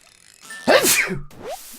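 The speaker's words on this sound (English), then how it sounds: "Uh-oh. I'm about to sneeze." One short, sharp sneeze bursts out close to the mic amid quiet background, followed by a brief breathy sound afterward.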